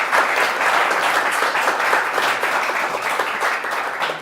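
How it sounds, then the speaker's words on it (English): A live audience gives a career panel a big, sustained round of applause, with dense, steady clapping throughout and no talking over it. "Can we just get one more big round of applause for our"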